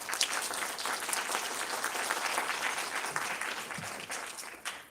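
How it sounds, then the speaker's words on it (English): An awards-event audience applauds a speaker taking the stage, with dense, steady clapping that holds at an even level for the whole stretch, close and full, with no voices over it. "Please give Grace Tai a round of applause."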